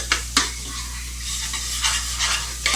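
Onions sauté and sizzle in a pan for homemade barbecue sauce. A steady hiss fills the background while a utensil scrapes and clacks against the pan in a few sharp strokes, and no one speaks.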